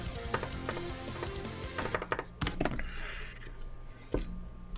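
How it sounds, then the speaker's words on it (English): Quick bursts of clicks and taps from a computer keyboard as keycaps are pulled and swapped, irregular clusters of sharp close ticks over a faint background hum. "I always gotta swap out my freaking keycaps"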